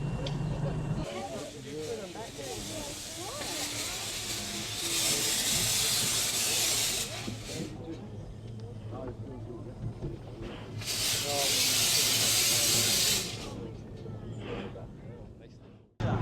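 A replica Rocket steam locomotion moving forward while riders sit in open carriages without seats or roofs, with steady rumbling and two long bursts of loud steam hissing, and people talking over it.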